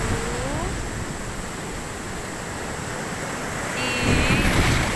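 Surf rolling onto the beach at Cemara Sewu in Tulungagung, East Java, a steady broadband wash with wind noise across the microphone that swells louder near the end, with no talking.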